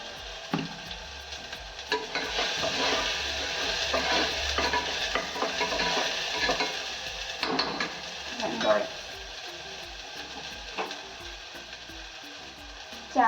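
Rice frying in a pan gives a continuous sizzle, with stirring scrapes and a few clinks of utensils against the pan. Brief, faint sounds of activity are heard near the end.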